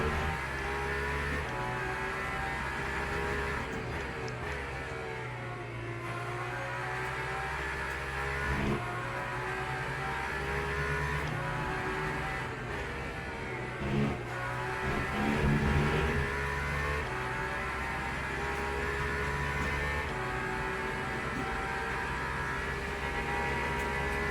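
Hypercar engine drone in the Le Mans Ultimate racing game, a sustained high mechanical whine that rises and falls with gear changes and throttle lifts while weaving through traffic, steady and continuous.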